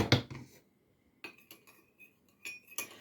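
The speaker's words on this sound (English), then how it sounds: "let me clean the spoon off and stir that in a bit" A metal spoon is cleaned and then stirred through a beeswax mixture in a container, giving a loud clink at the start followed by several lighter scraping taps and clinks, close and otherwise quiet.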